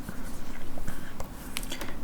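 A pencil draws on paper in quick, scratchy strokes, close and fairly loud, repeating in short rhythmic bursts as a line is darkened for a storyboard sketch.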